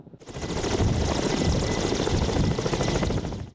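A Kamov Ka-226 military helicopter flies close by, its loud, steady rotor and engine roar filling the air without a break from start to finish.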